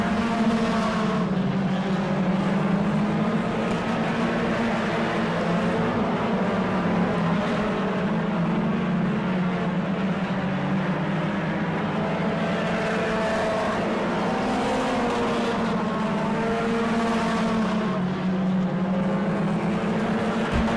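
Race cars run lap after lap at the Auburndale season opener, their engines holding a steady, loud drone with rising and falling pitch as the pack circles the track, and no voice comes through over the noise.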